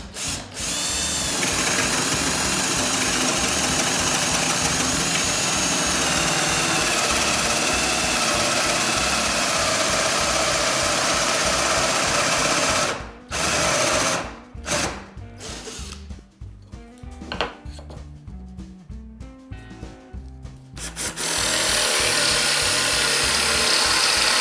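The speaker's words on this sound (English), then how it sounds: "you want to drill in until the top of your Forstner bit is flush" A power drill bores into wood with a Forstner bit, a loud, steady grinding whir that runs continuously, breaks into several short stop-start bursts midway, then resumes at full power near the end.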